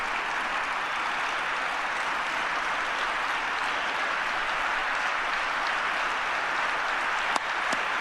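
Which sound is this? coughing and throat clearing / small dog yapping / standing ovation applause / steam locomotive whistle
standing ovation applause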